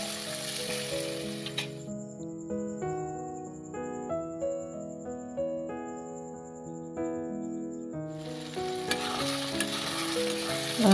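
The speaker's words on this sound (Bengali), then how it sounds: "এখন কিছুক্ষণ নাড়াচাড়া করে আবারও কিছুক্ষণ ভেজতে দেব" Meat seasoned with turmeric powder and salt sizzles and crackles steadily in a pan while being stirred. A loud, bright tonal music-like passage covers much of the middle of the clip, and the frying noise stands clear at both ends.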